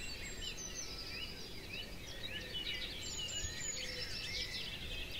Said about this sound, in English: It's just amazing the amount of birds that are singing this morning.